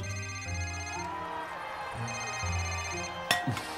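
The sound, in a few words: telephone ringing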